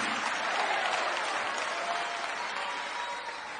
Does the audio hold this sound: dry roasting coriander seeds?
no